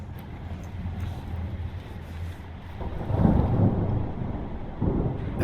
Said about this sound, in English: Back in the storm.